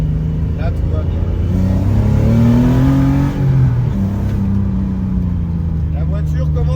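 A restored BMW running on E85 fuel with Siemens MS43 engine management drives along, its engine note rising and falling steadily and loud throughout, with someone talking over it.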